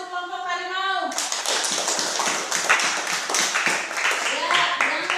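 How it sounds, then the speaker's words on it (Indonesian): A classroom of students claps for a group during a lesson, the applause bursting in after a short sung or spoken tone and continuing as dense, steady clapping with children's voices mixed in. "Tepuk tangan untuk kelompok Harimau."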